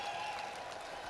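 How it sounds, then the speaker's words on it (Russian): Spectators at a mas-wrestling world championship applaud in a steady, dense wash of clapping that holds evenly throughout, moderately loud from the stands, with a faint tonal hum running underneath. "получает эти бурные аплодисменты"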